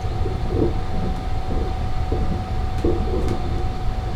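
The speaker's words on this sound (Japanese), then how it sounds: "京都の駅を出ると列車はすぐにトンネルに入ります" A Sunrise sleeper express train rumbles steadily through a tunnel just after leaving Kyoto, with a constant low roar, a sustained tonal hum and faint rhythmic wheel clatter throughout.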